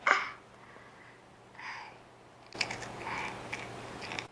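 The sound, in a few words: cat crunching goldfish crackers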